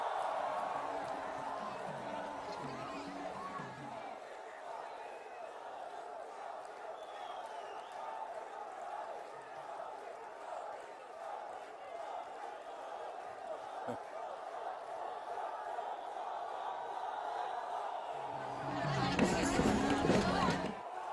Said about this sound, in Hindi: आज तालियां गूंज रही हैं, जयकारा हो रहा है